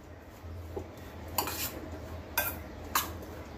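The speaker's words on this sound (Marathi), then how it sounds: "आता हे सर्व इंग्रेडियंट्स आपण मिक्स करून घेऊया।" Samosa filling of onion and kasuri methi being mixed by hand in a bowl: faint rustling with a few soft knocks and clinks spaced apart against a quiet background.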